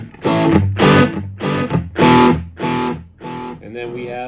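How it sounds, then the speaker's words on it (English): A Joyo guitar amp set to a long delay, played phrases repeating as a series of echoes spaced about half a second apart, fairly loud and alone. "or a really long delay"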